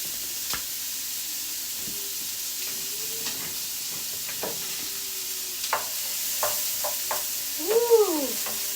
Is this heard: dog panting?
no